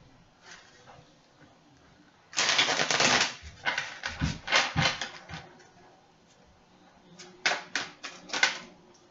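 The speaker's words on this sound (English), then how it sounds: "I was shuffling these cards just to get them mixed up" A deck of illustrated tarot-style food fortune cards being shuffled, with crisp riffling bursts in two clusters separated by a quieter pause, close and fairly loud.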